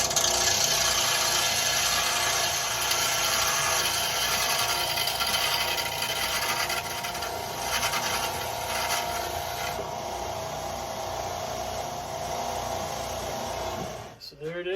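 Screw ends that are too long being ground down on a power sander, a loud continuous abrasive grinding whine that holds steady for most of the stretch before cutting off abruptly near the end.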